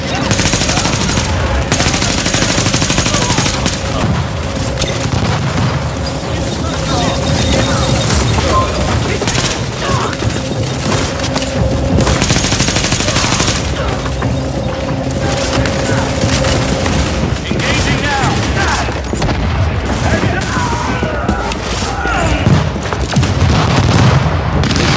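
Heavy gunfire in The Division on hard mode, with sustained automatic bursts and booming shots layered over one another, loud and continuous for the whole stretch, with occasional voices underneath.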